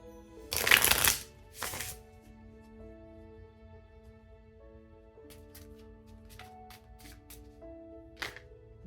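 Tarot cards shuffled by hand in two brisk riffling bursts near the start, close and clear, followed by a few faint card taps over a soft background hum.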